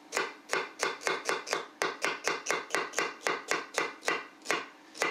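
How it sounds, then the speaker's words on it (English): Knife chopping vegetables on a cutting board, a brisk, even run of about seventeen crisp, close knocks, with a brief pause partway through, heard alone. "just keep chopping"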